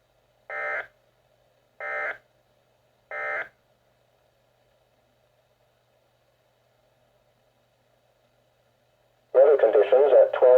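Three short, identical electronic beeps spaced about a second apart, then a long silence before a loud, sustained weather radio alert tone begins near the end.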